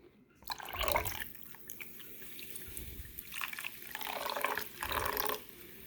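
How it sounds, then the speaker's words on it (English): Sparkling cider pours into a crockpot for a cranberry turkey, a close liquid splash and trickle that swells in uneven bursts over several seconds, with no talking. "I'm going to put half a cup of this in there instead."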